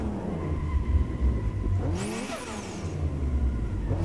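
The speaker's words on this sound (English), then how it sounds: "it doesn't make that much sense to have that kind of pop-off sound like that" A BMW E36 engine in the Assetto Corsa EVO racing game revs up and back down around a steady mid-range drone, with exhaust pop-off crackle on the lift, loud and close with no talk.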